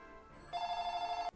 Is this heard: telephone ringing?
yes